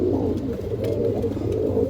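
Andhra pigeons kept for sale coo steadily and closely, their low throaty calls overlapping in a continuous murmur with no pauses.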